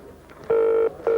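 Telephone line tones sound on a viewer's phone call during a live archaeology broadcast, two loud steady beeps, the first about a third of a second long and the second starting just after, preceded by faint clicks.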